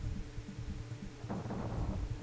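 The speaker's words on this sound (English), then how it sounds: "Lightning just killed that barrel." Thunder and a lightning strike in the Donkey Kong Country 3 video game: a rumbling thunder crash breaks out about halfway through, over low game music, with no talk.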